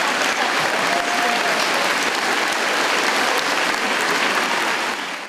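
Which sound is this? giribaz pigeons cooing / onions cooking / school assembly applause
school assembly applause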